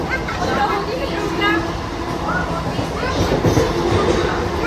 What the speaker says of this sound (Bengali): এখন রয়েছি হাওড়া ট্রেনে।